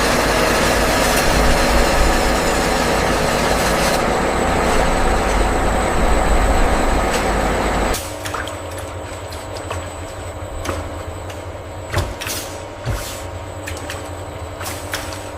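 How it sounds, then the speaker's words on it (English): A high-pressure homogenizer pumps collagen solution with a loud, dense mechanical roar that cuts off abruptly partway through, leaving a lighter machine hum broken by sharp clanks and hisses. "The conditioned collagen solution is pumped through a high-pressure homogenizer"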